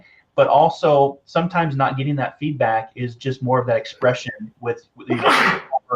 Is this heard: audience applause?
no